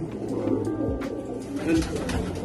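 Pigeons in a loft coo in low, continuous murmurs, fairly quiet and close, with faint scattered noises around them.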